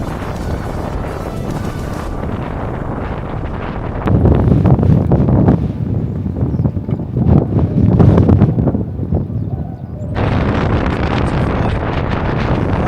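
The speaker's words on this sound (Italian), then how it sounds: "se non fosse per il vento che è molto fastidioso" Strong gusty wind on the Kazakh desert steppe blasts the microphone during a cycling trip, producing a loud, continuous low roar with surging gusts and shifting buffeting, with no voices.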